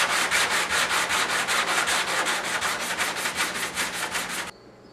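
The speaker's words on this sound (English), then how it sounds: "I'm going over it with 80 grit just to spread it out more and kind of feather everything together." Rapid, steady strokes of 80 grit sandpaper rasp over body filler on dented Ford F150 hood panels, close and fairly quiet, about four per second, then cut off abruptly.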